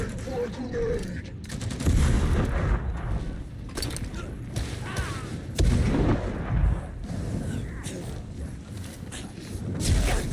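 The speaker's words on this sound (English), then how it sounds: "Time for a grenade!" A grenade blast in the video game Darktide lands amid continuous heavy gunfire and thudding booms, with several loud bursts rising out of a dense, chaotic battle din.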